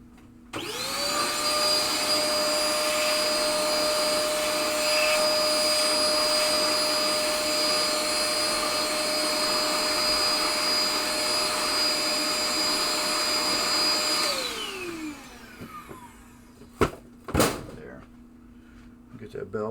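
A vacuum cleaner sucks up crud beneath the bell in the head of a 1962 Williams Vagabond pinball machine. It gives a loud, steady whine close by for about fourteen seconds, then winds down, and some knocks and handling noises follow.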